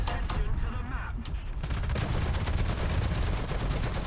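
Rapid bursts from a Shilka self-propelled anti-aircraft gun in a tank video game, a dense, continuous stream of loud autocannon fire that fills nearly the whole stretch alongside engine rumble.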